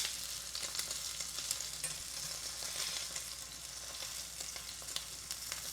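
Steak frying in a pan while a steak dinner is cooked, a steady close sizzle and crackle with scattered pops and spits running the whole time, no talking.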